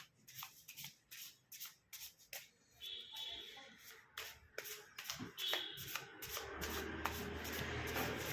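A deck of tarot cards is shuffled by hand in quick repeated riffles and taps, close and crisp, followed by a longer steady rustle as the cards slide together.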